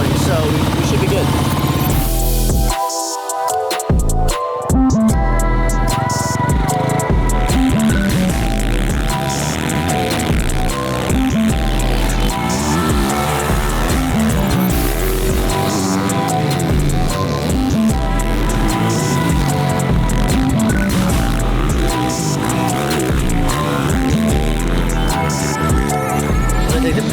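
A 450cc dirt bike engine roars continuously at close range while being ridden in a thunderstorm, its loud throbbing note rising and falling with the throttle over heavy rushing wind and rain noise.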